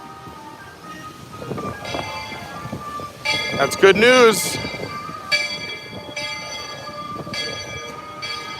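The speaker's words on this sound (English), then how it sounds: "Just in time for the train to pull in behind you." A Magic Kingdom park train pulls into its station, rumbling along with a bright bell ringing in the middle and whistle-like tones, while nearby people talk over the sound.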